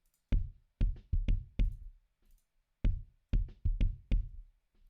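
A kick drum processed through an SSL channel strip and a 1176 compressor plays a repeating pattern of deep, full thumps with short tails, two phrases separated by a brief gap.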